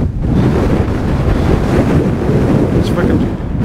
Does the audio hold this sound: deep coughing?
no